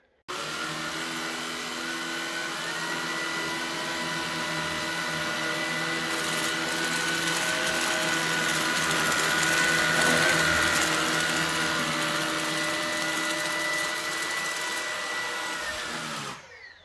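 A Shark Duo Clean vacuum cleaner runs on max power with a steady, loud motor whine and a constant hum, rising slightly midway as it moves over dirt, then shuts off abruptly at the end.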